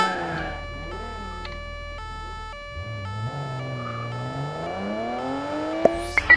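A car engine revs and climbs in pitch during a police car chase, with sustained tonal wails over it and a few sharp knocks near the end, alone without talk.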